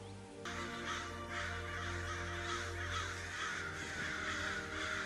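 Crows cawing in a scene from The Walking Dead Season 9 premiere, a steady dense chorus of harsh caws over a low droning background, continuous and fairly close throughout.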